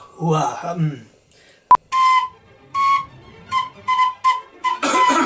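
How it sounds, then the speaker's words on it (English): Several short, shrill whistle blasts sound in a choppy rhythm, near and loud, with someone speaking briefly before them. "Put your whistle away."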